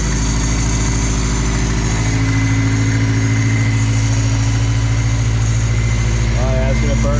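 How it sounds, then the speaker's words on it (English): Steady, low, even idle from a Toyota 22R four-cylinder engine fitted with a new exhaust, running close by with a smooth rumble throughout and a brief voice near the end. "That's the quietest 22R I've ever heard."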